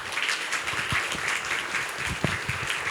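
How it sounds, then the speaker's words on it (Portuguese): Audience applause for a speaker at a Portuguese-language panel event on trends and challenges for 2026: dense, steady clapping from a crowd that fills the whole stretch at an even level, with no voices over it. "Uma salva de palmas para a Raquel."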